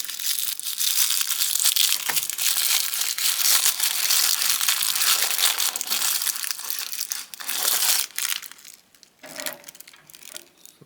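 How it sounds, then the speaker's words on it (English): A plastic pack is cut open to free toy blaster accessories. Close crinkling and crushing of plastic runs continuously and fairly loud, then thins into scattered crackles and small taps near the end. "here I'm gonna cut open the pack to get the blaster accessories free"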